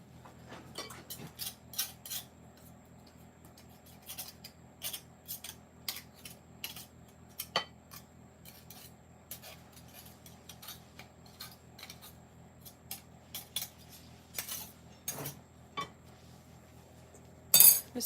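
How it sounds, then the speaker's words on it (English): Butter being scraped off a metal pastry blender in a mixing bowl for caramel apple pie scones, heard as scattered light clinks and scrapes, with occasional sharper metallic taps and a louder clatter at the end. "And every so often I like to scrape off the pastry blender."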